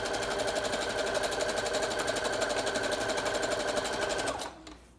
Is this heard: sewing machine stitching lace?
yes